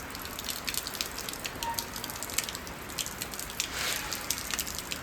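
Rain begins falling in a village, a faint, steady patter of scattered drops ticking on surfaces with brief, slightly stronger splashy bursts, no voices present.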